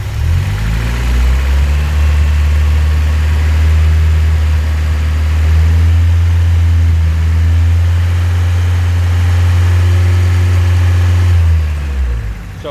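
A Toyota 22RE engine is held at raised RPM, giving a steady, loud, close drone with a strong low hum that stays even for several seconds before easing slightly at the end.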